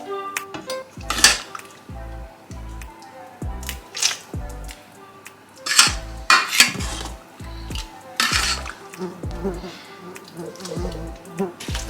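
Tuna pasta and sauce stirred in a pan with a utensil, giving repeated scraping clinks and wet squishes in an uneven rhythm, close by, with someone talking intermittently.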